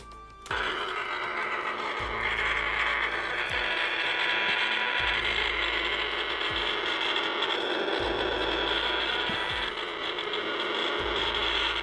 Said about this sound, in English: Now let's take a quick look at what those lights and sounds looked like. Now we'll switch ROM into flying mode.